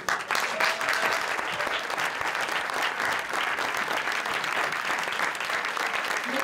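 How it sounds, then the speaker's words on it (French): An audience at a short film festival night claps in a dense, sustained round of applause that stays loud and even from start to finish. "je vais d'ailleurs leur demander de se lever afin que vous puissiez les applaudir"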